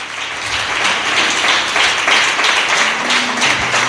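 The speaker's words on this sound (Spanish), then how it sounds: "Dele un aplauso al Señor" A church congregation applauds together in a steady, dense wash of clapping that fills the space from start to finish, loud and close.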